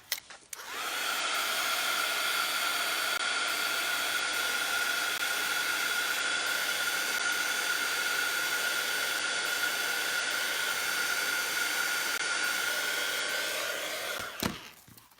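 A heat gun drying paint on a mixed-media surface gives a steady, close, loud blowing roar that starts abruptly, holds for about fourteen seconds, then cuts off.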